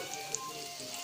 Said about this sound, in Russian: Все, сырники жарятся.